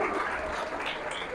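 A church congregation claps briefly in a short burst of dense, moderate applause from many hands, fading slightly as it goes.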